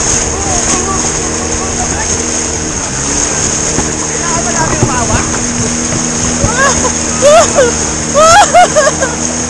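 River waves splash and rush steadily near a campsite in Nagtipunan, Quirino Province, a constant broad watery roar with occasional higher chirping sounds and voices in the background.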